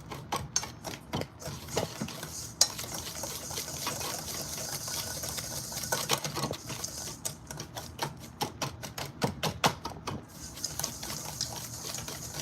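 A large whisk beats pumpkin pie filling in a bowl, giving fast, rhythmic clicking and scraping strokes that run steadily throughout at close range.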